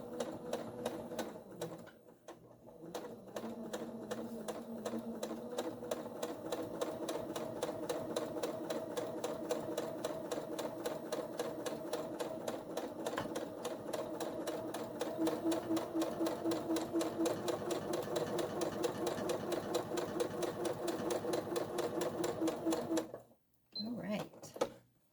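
A sewing machine runs steadily for a long stretch, top stitching a pleated pouch, with a rapid even needle rhythm that stops abruptly near the end.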